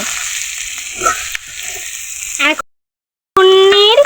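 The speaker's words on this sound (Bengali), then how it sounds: "নেড়ে চেড়ে পাঁচ মিনিট এভাবে করলা ও আলুকে ভেজে নিতে হবে" Bitter gourd and potato sizzle and hiss in a pan as they are stirred, steady frying noise with scraping strokes, then a brief silence and a louder burst of sizzling with squeaky stirring.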